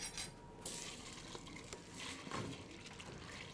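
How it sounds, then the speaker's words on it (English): A quick stir of macaroni and cheese soup in a pot, a soft wet swishing with light scrapes of a utensil against the pot, close but quiet, with no one talking. "Give that a quick stir."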